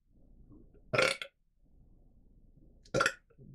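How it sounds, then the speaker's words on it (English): Two loud, close burps about two seconds apart, each short and throaty, with quiet breathing and rustle in between. "Here come the burps."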